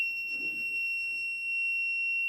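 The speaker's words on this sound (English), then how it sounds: "Now this is the buzzer which suggests that there is a motion detected around the system." A Raspberry Pi car theft alarm goes off when it detects motion, a single steady high-pitched electronic buzzer tone that sounds without a break, faint room noise under it and no talking.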